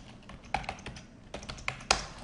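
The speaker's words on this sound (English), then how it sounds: "type in the group name" Typing on a computer keyboard, as when entering a contact group name into an email: a few light, irregular key taps with quiet pauses between them, close by and fairly faint, with no voices.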